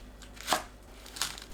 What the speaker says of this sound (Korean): 부추를 작게 1cm 길이로 썰어주세요.